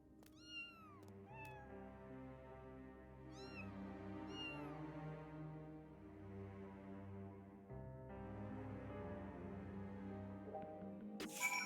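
A cat in a video game meows several times in clear, rising and falling calls over a steady bed of game music, close and fairly quiet, with no talk.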